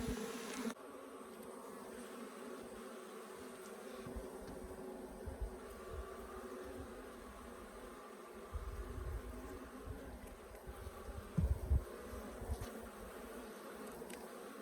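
Africanized hybrid honeybees buzz steadily at an open hive in Southern Arizona, a continuous faint drone with a few louder passes from bees flying close.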